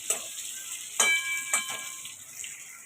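Food frying in a pan on a home kitchen stove, a soft sizzle punctuated by a few sharp clinks and scrapes of stirring at irregular intervals, with no speech.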